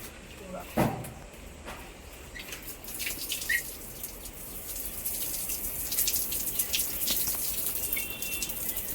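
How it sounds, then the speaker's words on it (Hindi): Water splashes and gushes across a home balcony floor as it is washed, with a soft steady wash and scattered drips and knocks while someone talks over it. "अब मैं सारी गैलरी भी धो दूंगी"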